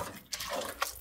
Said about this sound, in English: So I'm just going to add water.